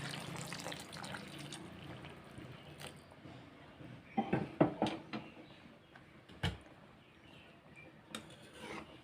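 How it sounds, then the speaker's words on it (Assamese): Heated water poured into a pan of fish curry, a soft watery rush with a few louder splashes and clatters partway through, close and fairly quiet. "এতিয়া মই ইয়াতে গৰম কৰি থোৱা পানীখিনি দি দিছোঁ।"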